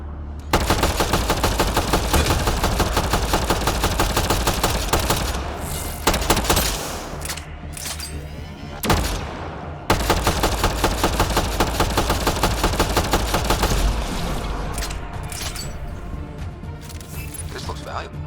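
Turret gunfire in Mass Effect Andromeda, a long, loud, relentless stream of rapid shots with brief pauses, thuds and crashes, and speech mixed in beneath.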